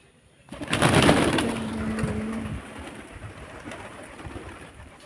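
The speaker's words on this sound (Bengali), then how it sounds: "এখানে অনেকগুলো পায়রা আছে চাল খাচ্ছে গম খায় রুটি খায় ছোলা খায়" A flock of temple pigeons coo and flutter nearby as they feed on grain, a soft low burbling over a brief clatter of wings at the start, then settling into quieter ambient bird noise.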